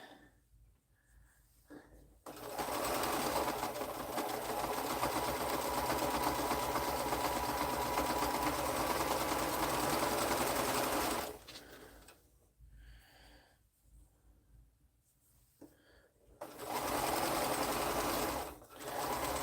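Sewing machine stitching quilt blocks for a quilting sewalong, running in a loud steady burst of about nine seconds, stopping, then starting again near the end for a shorter run.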